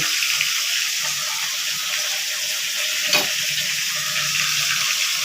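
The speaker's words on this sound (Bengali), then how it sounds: "এবার আমি তেলের মধ্যে আলুটা দিয়ে দিয়েছি এবার আমি আলুটা ভেজে নেব" Potatoes fry in hot oil with a steady, loud, dense sizzle that holds throughout and is broken only by one brief clink.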